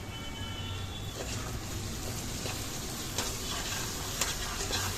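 Spicy fish chorchori with tomato ketchup being sautéed in a pan sizzles steadily and close, a constant crackling hiss broken by occasional stirring scrapes, with no speech.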